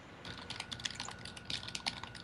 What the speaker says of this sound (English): I don't understand how my keyboard is so loud.